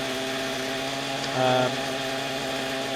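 A small motor runs steadily while its throttle trim is adjusted, giving a constant buzzing drone with one brief rise in pitch and loudness in the middle before settling back to idle.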